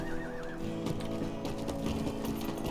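A horse in the Lord of the Rings Online video game whinnies once briefly at the start, followed by soft hoof clip-clops, all faint and close.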